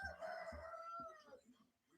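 A rooster crows once, fairly close, in a long drawn-out call that fades away, with a faint thump or two beneath it.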